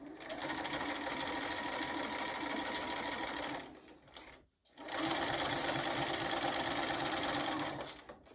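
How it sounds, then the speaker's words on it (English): A sewing machine stitches doll quilt pieces with a close, continuous mechanical whir that stops briefly midway, then starts up again at full speed. "you can sew this so much better and more accurately if you have it on top"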